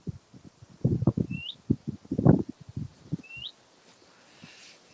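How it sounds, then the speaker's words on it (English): A small bird's brief rising chirps repeat twice in a woodland setting, faint and high above rustling footsteps and movement nearby. "Hello, little bird. I hear you. Where are you?"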